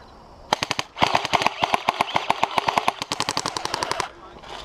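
Airsoft guns at an outdoor open-play game fire in rapid bursts, sharp close cracks in quick strings with short pauses between volleys, and faint voices nearby.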